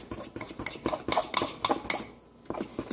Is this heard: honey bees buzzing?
no